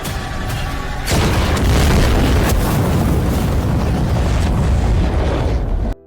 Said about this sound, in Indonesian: salah satu anak buah Yuanha melempar granat yang memicu ledakan besar demi bisa melarikan diri